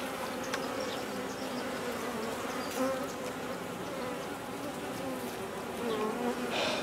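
Honeybees buzz around a tree during a trap-out in chilly weather, a dense steady hum of many insects close by with individual bees flying past, no voices heard.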